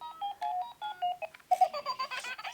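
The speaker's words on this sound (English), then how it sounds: "It's a plastic frog that makes all kinds of noises." Plastic toy frog with nearly dead batteries plays a thin electronic beeping melody in short uneven notes that falter and break off, close and fairly faint with no talking.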